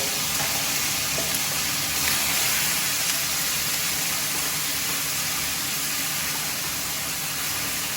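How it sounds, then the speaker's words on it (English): Steady, loud sizzling of ginger garlic paste frying in hot oil, a continuous crackling hiss close by with no talking. "It does sizzle a lot, be careful"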